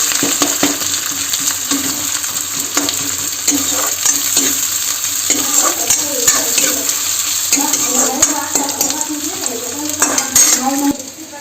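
Breakfast food roasting in a pan in a home kitchen, stirred constantly: a loud, steady sizzle close by, overlaid with frequent metallic scrapes and clinks of a spoon against the pan.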